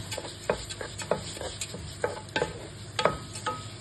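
Washed rice sautéed in oil is stirred in a pan, giving soft repeated scraping clicks at an irregular rhythm over a faint, low sizzle, with no voices.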